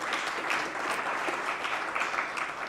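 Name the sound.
round of applause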